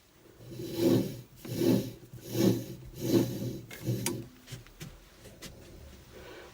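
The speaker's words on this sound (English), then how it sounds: "not to try and stop the lathe while this is spinning" A wood lathe spins while a winged bowl is turned, giving five regular rasping, rubbing strokes about a second apart, followed by fainter, scattered scrapes and ticks.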